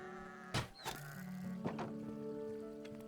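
Sheep in the video game Minecraft bleat in a couple of short, quiet calls over a low background hum, with a soft thunk in between and no talk.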